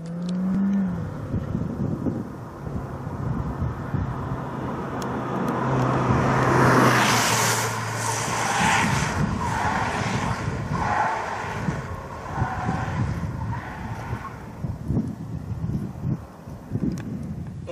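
A Suzuki Vitara weaves through a cone slalom with ESP switched off, its engine droning steadily and swelling midway as it accelerates, with tyre and road noise in between. No talking.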